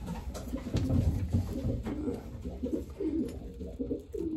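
Low, throaty cooing from a young racing pigeon repeats in soft rolling phrases, close by, over a steady rumbling background.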